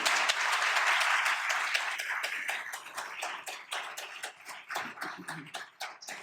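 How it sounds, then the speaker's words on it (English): Audience applause welcoming panelists at a women-in-law panel event in Las Vegas: dense clapping that starts strong and gradually thins into scattered individual claps, with no speech over it. "Maybe we should just give them a round of applause to welcome them."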